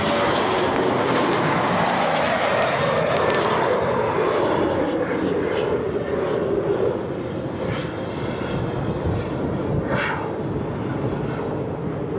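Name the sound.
airplane flying overhead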